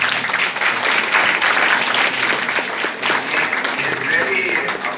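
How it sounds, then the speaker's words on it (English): Students at a university symposium on a tobacco-free society clap together in a loud, sustained round of applause, dense and even throughout, with faint crowd voices beneath. "Can we have a clap for that?"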